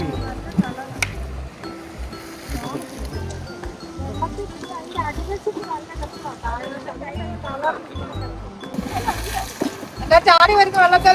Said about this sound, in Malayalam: ചാടി വരുന്ന വെള്ളത്തിലൊന്ന് തൊട്ടോ?